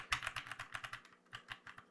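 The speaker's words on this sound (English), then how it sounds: "now I'm just going to be playing on the WASD keys just to give a scenario for gaming" Computer keyboard WASD keys pressed in a steady gaming-style rhythm, a quick run of crisp clicks close to the microphone, heard alone with no talking.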